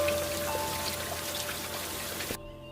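Cartoon rain falling on crops: a steady dense patter of raindrops, loud and continuous, cutting off abruptly near the end.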